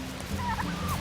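Wild turkeys gobble close to a hunting blind, a brief rolling gobble burst ringing out over a low outdoor background with no one speaking.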